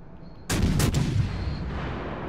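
A single loud naval gun salvo booms from a battleship in the video game World of Warships: Legends, a sharp blast followed by a long rumbling decay, with no talk over it.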